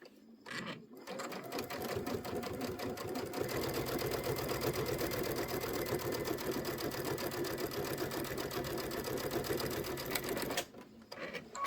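A sewing machine stitches fabric scraps together in one steady, close, rapid whirring run of about ten seconds, starting and stopping cleanly, with no talk over it.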